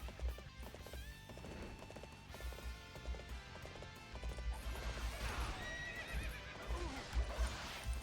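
Horse neighing and galloping in Dynasty Warriors 8: Xtreme Legends, hooves pounding steadily under battle music and game noise, with a loud whinny rising near the end.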